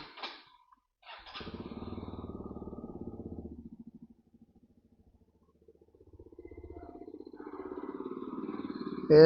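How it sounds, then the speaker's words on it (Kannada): A Bajaj Pulsar motorcycle cranks and idles nearby with a rapid low putter, stalls to near silence, then starts again and revs up, growing louder toward the end. "ಇದು ಫ್ರೆಂಡ್ ಗಾಡಿ ಆಚೆ ಇಟ್ಟಿದ್ದೇನೆ, ಒಂದು ಪಲ್ಸರು."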